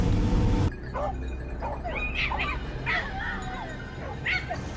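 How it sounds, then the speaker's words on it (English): Hunting dogs bark, yip and whimper from within mountain brush during a wild boar hunt, giving a run of sharp, excited calls at moderate distance after a brief loud burst of noise at the start. "The dogs barked furiously from within the brush"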